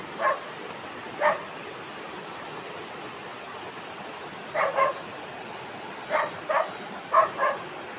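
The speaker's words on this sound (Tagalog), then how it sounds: "may aso sa bundok" A dog on a mountain barks in short scattered bursts, a couple of single barks then paired and quick clustered ones, fairly distant over a steady background hiss.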